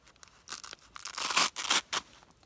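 A Velcro flap on a woodsman pack is torn open in several close, loud ripping bursts, starting softly and growing stronger before a final short tear, with no talk.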